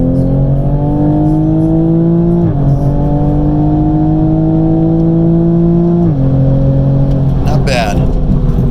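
A 2020 Toyota Supra in sport mode accelerates hard, its engine note climbing steadily with two quick shift dips before rising again, loud and close throughout, with a voice talking briefly near the end.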